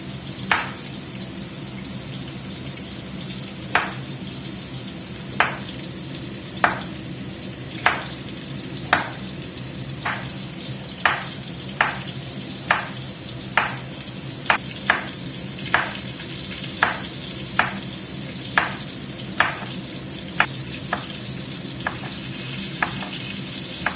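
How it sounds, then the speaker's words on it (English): A chuck roast sears in a hot pan with a steady, close sizzle and sharp, evenly spaced pops cutting through it, and no one speaks. "While the chuck roast is searing up over there"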